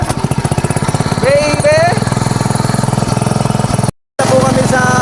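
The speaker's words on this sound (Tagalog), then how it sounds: "umarya na po ang aming makina" Fishing boat engine running on Laguna lake, a loud rapid chugging putter that continues steadily with a brief cut near the end, while a voice speaks over it.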